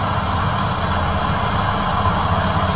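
A Sharp 8kg washing machine motor spins steadily, a dense continuous whir with a low hum beneath, close and fairly loud, without pauses or change in pitch.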